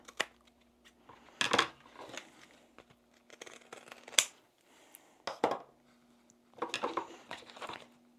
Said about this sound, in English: Snip your corners off.